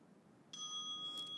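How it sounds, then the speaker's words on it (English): A single meditation bell strikes in a quiet yin yoga practice, its clear ringing tone sustaining steadily with a soft shimmer, alone and fairly faint. "Sometimes the sound of the bell is so nice"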